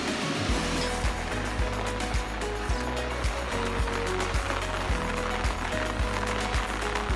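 Rain falls continuously in a dense, wide hiss, while a low, rhythmic thumping repeats about every half second beneath it.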